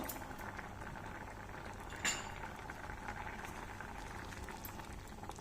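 Sweet potato jaggery payasam bubbling in a pot while rice flour is stirred in, a continuous soft simmering hiss with one brief clink of a spoon against the pan.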